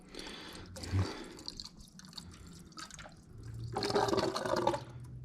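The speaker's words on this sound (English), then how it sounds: "You hear it gurgling as it's filling up and it's backwashing through the engine" Tap water gurgles and trickles through a 2020 Yamaha YZ450F or WR450F motorcycle engine's coolant system, with a drip early on and a louder rushing, bubbling surge of filling water toward the end.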